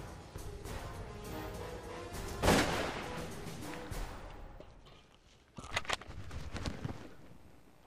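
A single sharp report from a .308 hunting rifle during a Texas whitetail hunt, loud and close, echoing out across open country, followed by faint rustling and a few later knocks.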